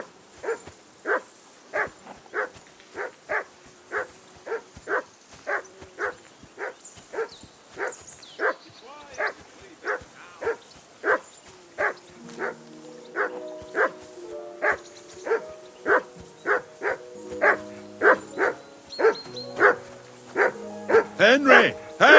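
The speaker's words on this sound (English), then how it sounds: "Call off that mutt of yours!" A dog barks repeatedly in the medieval video game Kingdom Come: Deliverance II, a long run of evenly spaced woofs that later mix with whimpers and yips, with character voices talking over the latter part.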